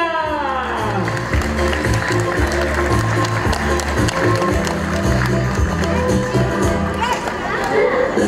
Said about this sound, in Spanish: Venga, el aplauso para la señora Margarita.